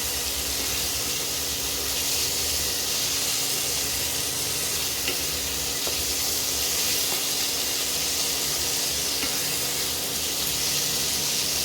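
Minced meat sautéing in a pan for keema ghugni gives a steady, loud, continuous sizzle and hiss with faint stirring clicks, no talk over it.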